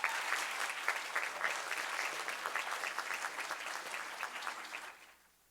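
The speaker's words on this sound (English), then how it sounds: "Let's give Faith another round of applause." An audience at a board of education meeting claps steadily and fairly loudly for about five seconds, then the applause fades out quickly.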